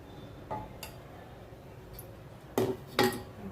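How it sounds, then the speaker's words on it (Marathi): Green moong flour roasts in ghee as it is stirred in a pan, producing a few quiet metallic scrapes and clinks of the spoon against the pan, with two firmer knocks near the end. "छान असं परत आपण असं व्यवस्थित असं परतून घेऊया छान पीठ भाजलं गेलं"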